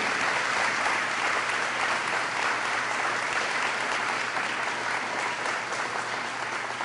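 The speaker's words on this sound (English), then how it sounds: "give these guys in the blue a big round of applause" Loud, dense applause from a large crowd at a fire department building dedication, sustained evenly throughout without letting up.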